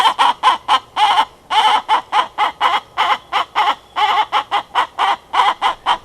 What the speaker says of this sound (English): That is one of my hens telling everybody she just laid an egg.